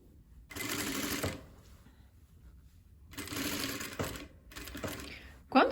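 Sewing machine stitching a dress-coat with bias binding, backstitching at the start, in two loud bursts of rapid mechanical clatter separated by quieter pauses, with brief fabric handling sounds.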